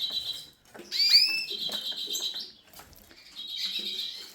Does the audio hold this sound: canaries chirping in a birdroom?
yes